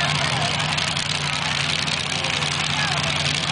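Race car engines idle together before a heat race, a loud continuous rumbling drone with a steady low hum, and a voice talks over it.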